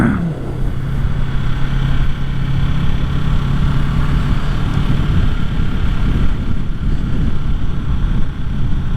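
A Yamaha R3 motorcycle's engine drones steadily while riding, loud and close under heavy wind rush against the microphone, its pitch shifting slightly as the rider works through gear changes.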